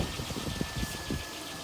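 The live car engine runs during a jump start, a close, steady idle with low rhythmic chugging pulses under a broad mechanical hum.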